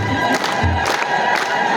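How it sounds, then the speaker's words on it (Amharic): A crowd at a celebratory gathering in Addis Ababa cheers and shouts loudly, dense voices swelling in waves; individual applause is not distinct. "አጨብጭቡላቸው"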